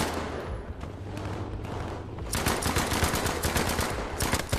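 Continuous gunfire in the World War II shooter Battlefield 5, a dense rumbling battle din that sharpens into rapid, loud automatic bursts halfway through.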